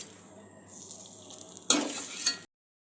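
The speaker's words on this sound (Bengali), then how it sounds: "একটু কষে নেব আমি।" Masala for a North Indian style creamy paneer curry stir-fried in a pan: a soft hiss builds, then two sharp bursts of sizzle and spatula scraping, brief and close, with no talking.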